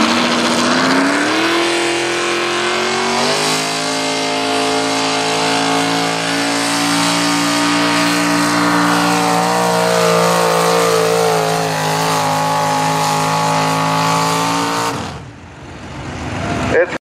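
A loud pulling tractor engine roars steadily for many seconds during a tractor pull run down the track, rising in pitch at first, then cuts off abruptly near the end.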